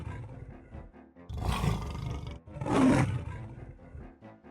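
A cartoon dinosaur in a fairy-tale retelling lets out two loud, drawn-out roars separated by a short pause, with no talking.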